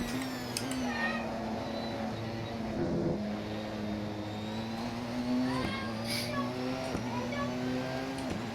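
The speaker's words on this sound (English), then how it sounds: "Hey cat, there's a cat." A cat meows over the steady drone of racing car engines in a sim racing session at Brands Hatch, its cries rising as wavering tones above the continuous engine hum.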